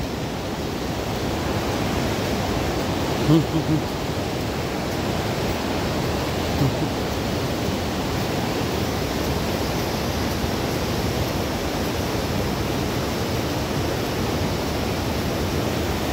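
Steady broadband rushing of a mountain river at a confluence below a suspension bridge, constant and fairly loud throughout with no voices, close by.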